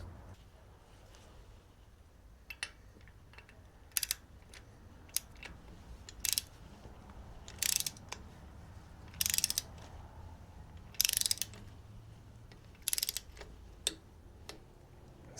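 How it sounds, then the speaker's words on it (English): A torque wrench being adjusted for spark plugs on a Harley-Davidson Sportster gives quiet ratchet clicks, some single and some in short bursts, spaced irregularly across a faint mechanical background without speech. "you want to get your torque wrench. First, you want to set it to 11."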